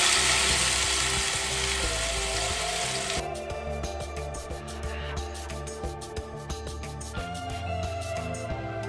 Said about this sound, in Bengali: এবারে আমরা মাছগুলো ভাজবো।